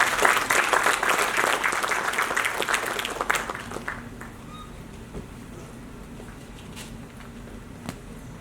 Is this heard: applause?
yes